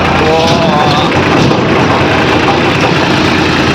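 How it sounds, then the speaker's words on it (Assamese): A loud, steady engine rumbles continuously, heavy and low like a tractor running close by, with no break in the drone. "ট্ৰেক্টৰৰ লগত এতিয়া আগত গৈ আছোঁ"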